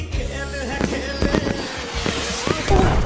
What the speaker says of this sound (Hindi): That's just the sound of drones being shot down.